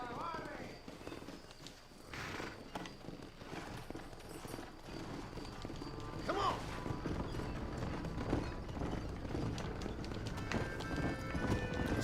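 Horse hooves galloping in the Red Dead Redemption game on Xbox One, a steady rapid clatter of hoofbeats running under game music and ambience, with voices speaking over it.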